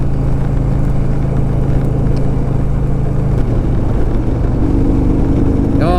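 A 2007 Harley-Davidson Softail Deluxe motorcycle engine runs at a steady, loud idle nearby, its low rumble constant, with a faint voice briefly under it.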